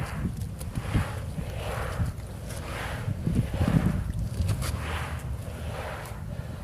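Airsoft BBs roll inside a car tire while it turns, making a rhythmic series of soft swooshing, rumbling passes about once a second, fairly close and steady.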